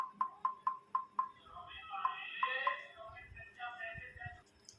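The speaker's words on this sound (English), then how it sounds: "how can you off your screen tap sound like this" Five quick, crisp screen tap sounds on a Xiaomi 11 Lite NE 5G phone in a steady rhythm, then a couple more, followed by faint background noise and a quiet voice.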